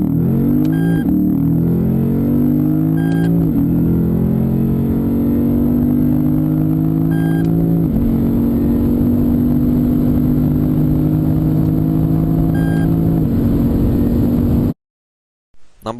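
A Lexus naturally aspirated V8 pulls hard through several gears, its smooth engine note climbing in pitch, dropping at each shift, then climbing again, loud and close, before cutting off near the end.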